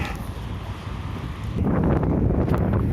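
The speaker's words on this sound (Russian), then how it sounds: "Ух, какой ветер. Смотрите, как метет. Снег метет." Strong wind with blowing snow in a Yakutsk blizzard roars and buffets the microphone, growing louder and gustier partway through, with no voices.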